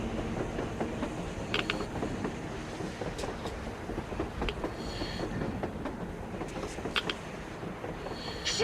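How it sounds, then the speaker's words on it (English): A train passing on the surface in the video game Metro Exodus, heard as a steady mechanical rumble with scattered creaks and metallic clanks, moderately loud and continuous, with no voices. "A train! A damn train on the surface!"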